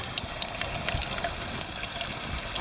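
Fish fries in hot oil over a campfire, a steady close sizzle with small crackles and pops and no talking.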